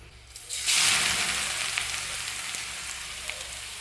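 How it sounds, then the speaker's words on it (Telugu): Grated carrot hits hot oil in a pan, bursting into a loud, bright sizzle that then settles into a steady frying crackle, close and continuous with no talking. "క్యారెట్ తురుముని నూనెలో వేస్తాను"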